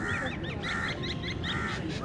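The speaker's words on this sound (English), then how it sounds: "Listening to birds chirping." Outdoor birds on a cold February day calling in quick repeated bursts of short honking chirps, moderately close over a steady background hiss of open air, with no speech.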